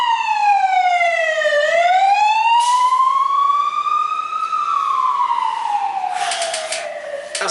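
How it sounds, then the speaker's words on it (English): A loud wailing siren sweeps slowly down and up in pitch, close and continuous, as an emergency vehicle passes by. "I know they've got to have the sirens"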